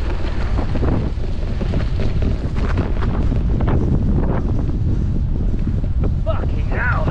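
Strong headwind buffets the microphone while sailing, a loud, continuous low rumble with gusty swells, and a few faint tonal squeals near the end.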